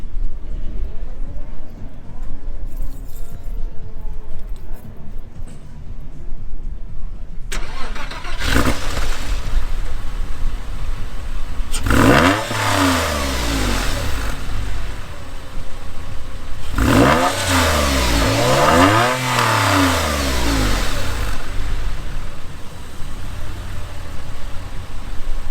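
A car fitted with a non-factory aftermarket exhaust at a Eurofest car show starts up with a sharp bark at close range. It then gives two strong rising-and-falling revs that stand out over a steady idle, with faint voices nearby.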